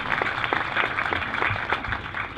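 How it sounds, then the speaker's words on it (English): Applause from an audience at a Memorial Day gathering, many hands clapping in a steady, fairly loud patter for a couple of seconds. "Round of applause for them, Sarasota Nokomis Boy Scout Troop 1001."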